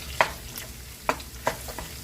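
Onions being stirred in heated oil in a skillet give a soft continuous frying hiss, broken by three or four brief scraping clicks from the utensil.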